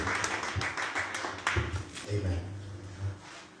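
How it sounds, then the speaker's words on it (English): A church congregation clapping hands in praise during a sermon, a burst of scattered applause that thins out over a few seconds, with some voices mixed in. "Let us give God a mighty hand clap"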